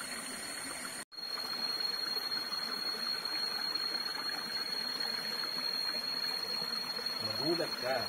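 A mountain stream flows on Mt. Makiling, a steady soft rushing and trickling wash, faint and continuous apart from a momentary dropout, with a voice speaking briefly near the end.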